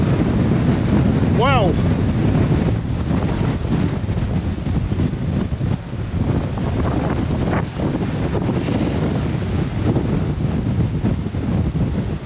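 Strong, steady wind roars across the open outer deck of a ferry crossing the North Atlantic, buffeting the microphone continuously with a low, rumbling sea wash beneath; a single short exclamation from a voice is heard near the start.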